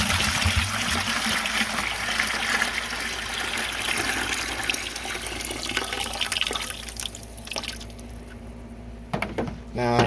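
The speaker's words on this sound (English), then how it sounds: "Now I'm gonna pour my 1 gallon here." A gallon of mulch lock mixture pours steadily from a bucket in a continuous, fairly loud liquid rush that thins and trickles off near the end.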